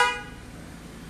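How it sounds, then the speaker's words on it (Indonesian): A Toyota Premium Horn snail-type car horn fitted to a Grand New Kijang Innova gives one short, loud, brassy honk that cuts off and leaves a faint ringing tail. "sudah diganti dengan Toyota Premium Horn"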